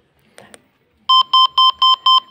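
A faint double click, then a loud electronic beep from a Satlink Vivensis ST 5260 satellite receiver repeating in an even, rapid rhythm, sharp and close.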